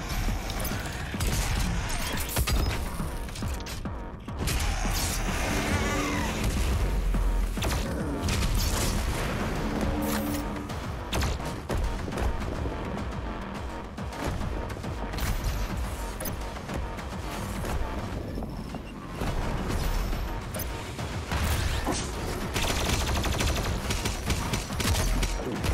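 Chaingunner enemies in a DOOM Eternal custom map unleash long, dense streams of rapid gunfire mixed with other chaotic combat noise, a constant crackling barrage that runs throughout at moderate loudness.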